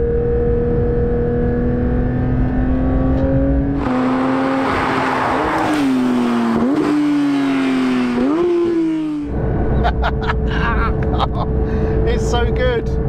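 Porsche 992 GT3 engine revving hard in second gear, a loud rising wail that climbs and dips through several shifts, with in-cabin road noise and someone talking under it.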